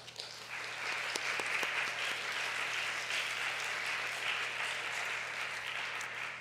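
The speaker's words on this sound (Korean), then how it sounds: "율송의 뜨거운 박수로 제가 환영해 드리겠습니다" A church congregation applauds to welcome visitors during a Sunday worship service, a steady, moderately distant round of clapping that fills the room for several seconds and tapers slightly at the close, with no talk over it.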